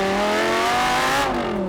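An Audi R8 with a 5.2 TFSI V10 of nearly 520 horsepower, manual gearbox, revs hard at close range, a loud rising engine howl that dips briefly near the end.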